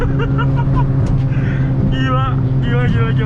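A modified Volkswagen Golf GTI drives fast, its engine droning loud and steady from inside the cabin while people talk over it.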